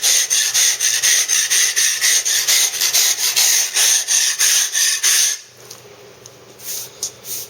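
A freshly sharpened toothed drag is pulled back and forth in quick, even strokes, about sixteen rasping scrapes in five seconds, followed by a few softer, scattered strokes. The sound is close and clear, with no voices.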